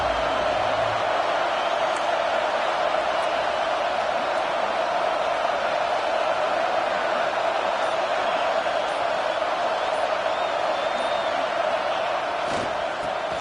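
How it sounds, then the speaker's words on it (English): Steady, loud stadium crowd roar from a college football video game, Auburn versus Florida, swelling as the home fans make noise for a red zone defensive stand, continuous and unbroken throughout. "And here comes the noise. This crowd is trying to inspire this defense to make a big red zone stop."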